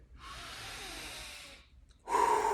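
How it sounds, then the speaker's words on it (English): A deep breath drawn in through the nose and let out through the mouth during a solar plexus chakra workout, one long soft airy inhale followed by a brief pause and a louder, brighter exhale, close and alone. "in through the nose, out through the mouth."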